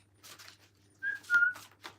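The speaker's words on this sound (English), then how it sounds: "Give a little whistle." A person whistles a few short pitched notes, fairly quiet and close, with brief breathy sounds between them.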